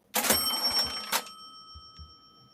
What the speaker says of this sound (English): Cash register.